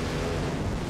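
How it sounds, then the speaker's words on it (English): An engine on a test stand with mechanical fuel injection and a barrel valve backfires in a loud, dense roaring burst that fills the whole moment without a break. "Big explosion!"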